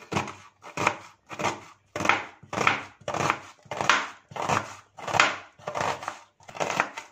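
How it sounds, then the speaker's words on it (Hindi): A knife chops peeled, halved onions on a board in about ten steady, evenly spaced strikes, each a crisp, close thud-crunch heard alone. "सेंटर में इस तरह से कट लगा लेंगे और बस इसे चॉप कर लेते हैं"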